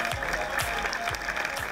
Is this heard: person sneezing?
no